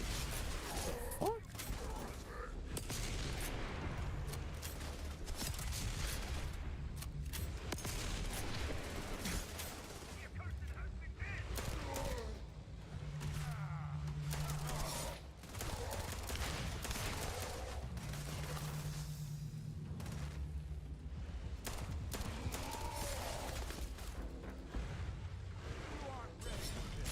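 Shotgun blasts in the video game Starfield, a run of sharp bursts scattered through dense game noise while someone talks over the action.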